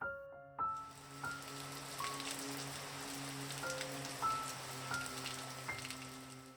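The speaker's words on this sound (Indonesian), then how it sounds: "diiringi suara hujan yang terdengar sangat jelas" Steady rain falls in a dense, even hiss throughout, with sustained soft tones underneath and no voices.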